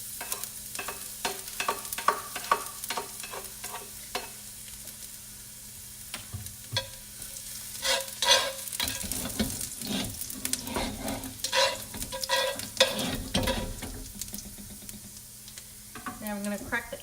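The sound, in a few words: garlic stir-frying in a hot pan for fried pho noodles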